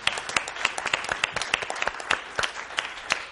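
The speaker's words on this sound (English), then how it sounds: "We just clapped." Applause from a small audience at an academic talk, a brisk burst of many hands clapping close by, dense and steady for a few seconds with sharp individual claps standing out.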